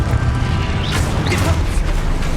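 A Confringo fire spell blasts in Hogwarts Legacy, giving a dense, continuous roaring burst with rushing whooshes layered over a heavy low rumble, loud and sustained throughout.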